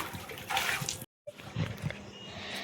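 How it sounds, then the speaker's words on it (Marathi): Water runs steadily into a household water tank with a close, continuous hissing rush. It cuts out briefly and then resumes, with no talk over it. "तर हौदामध्ये पाणी तर चालू आहे, ते पूर्ण आज भरून घ्यायचं आहे."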